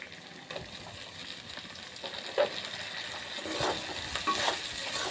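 Turmeric and tomato being fried and stirred in a pan for dum aloo, a soft, low sizzle with a few scraping stir sounds, fairly quiet and continuous.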